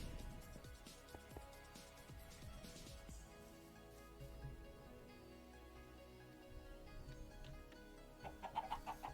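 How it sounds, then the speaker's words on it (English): Chickens cluck in the Minecraft video game, soft short calls scattered over faint in-game ambience, with a few quiet pops and a cluster of brighter sounds near the end. "Chickens."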